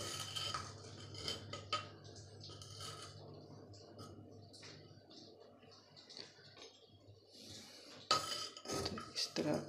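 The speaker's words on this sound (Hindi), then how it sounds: "उसके बाद आपने चम्मच इस तरह चलाना है" A spoon scrapes and clinks against a clay pot while kofta biryani is stirred, quiet metallic taps and rubs spread across the stretch, growing louder near the end.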